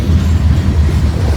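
A long freight train of graffiti-covered auto rack cars rolls past close by, giving a loud, steady, low rumble with a faint clatter of wheels and no voices.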